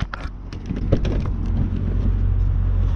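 A modified 500bhp-plus Mercedes CLS55 AMG launches hard with tire smoke, giving a loud, close, continuous engine-and-tire roar that builds and holds for the full three seconds.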